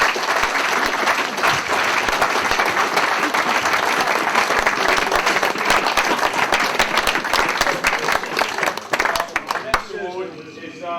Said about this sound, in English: So just a big round of applause to yourself.